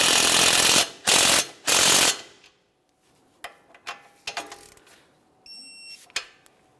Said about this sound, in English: Now we'll tighten that mounting nut and torque it to 43 foot-pounds.